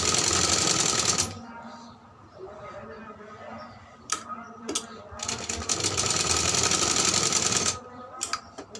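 A sewing machine stitches a baby frock's shoulder joints in two loud, rapid, close-up bursts separated by a quieter pause, its needle chattering steadily.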